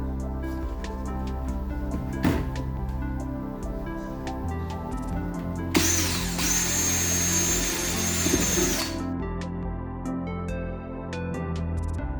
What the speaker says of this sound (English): So we'll start just by drilling those out.